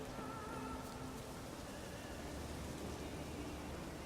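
Steady rain falling in The Witcher 3 on an overcast, rainy but bright Skellige day, a soft continuous hiss with a faint low rumble, even and unbroken throughout with no talk.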